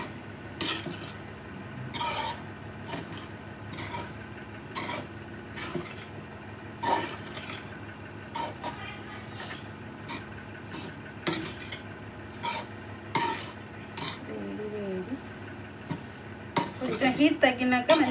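A metal spoon scrapes and clanks against a hot kadai while puffed rice uggani is stirred, giving repeated irregular knocks and clinks that grow quicker near the end.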